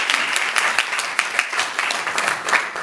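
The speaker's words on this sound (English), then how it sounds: "let's give Hana a round of applause" A steady round of applause from a small audience, many hands clapping together at an even, sustained level with no talking.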